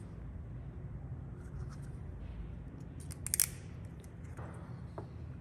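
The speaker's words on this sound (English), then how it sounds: "We're going to take our zip ties." Zip ties are fastened around a steering boot on a rod end steering setup, giving a brief, quiet ratcheting zip in the middle of near silence.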